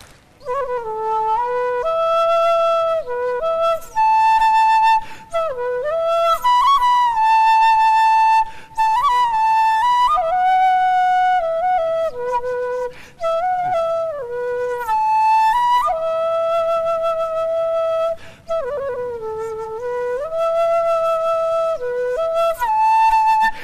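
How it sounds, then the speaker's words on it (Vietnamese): Bamboo flute melody played solo, sustained clear tones with sliding bends and ornamented trills in phrases separated by brief breaths, close and loud with no talk. "Tiếng sáo là réo rắt lắm đó nha"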